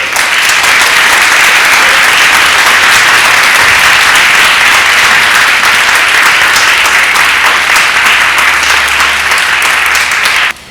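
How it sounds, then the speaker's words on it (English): A congregation applauds new members at a church service: loud, dense, sustained clapping that fills the space for about ten seconds, then stops abruptly. "Let's give our new members a round of applause."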